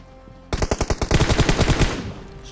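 Rapid automatic gunfire in the video game PUBG on the Erangel map, a loud close burst of a dozen or more quick shots following a brief quiet lead-in.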